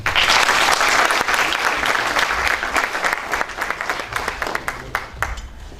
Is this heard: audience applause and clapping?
yes